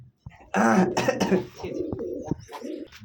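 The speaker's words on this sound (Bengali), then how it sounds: "তো এখানে একজোড়া কবুতর আছে আপনার রাজগোল্লা" A pair of Rajgolla pigeons at a pigeon farm in Rajshahi give close, throaty cooing in a couple of short bursts, with nothing else around them.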